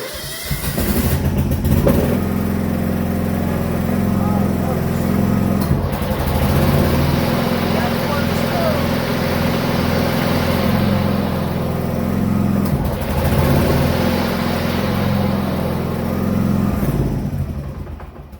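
A John Deere F525 lawn tractor's small engine runs steadily with a low, continuous drone, holding a fairly even idle for the full stretch with slight swells in loudness.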